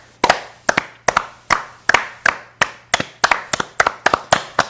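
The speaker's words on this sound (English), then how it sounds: "clap your hands" Hands clap steadily in a brisk, even rhythm, about a dozen sharp close claps with no voices.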